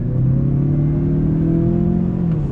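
2021 Mazda 6 Carbon Edition turbocharged engine pulling on throttle in low gear, a steady rising drone with rumbling road noise heard from inside the cabin.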